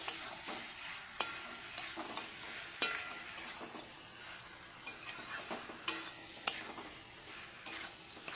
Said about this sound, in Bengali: মাটনটা দিয়ে ভালো করে এটাকে আমি কষবো